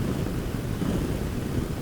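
Steady wind roars and buffets across a mountainside on a bright day, a continuous low rumbling rush with no breaks and no voices.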